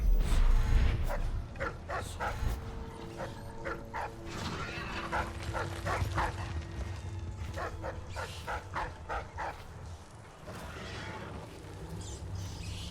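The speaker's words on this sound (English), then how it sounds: "Oh, it's a dog." A dog in the video game Dishonored barks repeatedly in short clusters, moderately close, over a constant low rumble of game ambience and mechanical noise.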